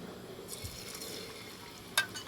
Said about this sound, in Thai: มาลงมือทอดกันด้วยค่ะ